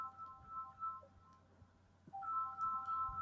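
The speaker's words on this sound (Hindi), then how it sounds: "कौन बार बार फोन कर रहे हैं" A phone ringtone plays close by in a quiet room, a bright repeating melodic tone that breaks off briefly and then starts ringing again.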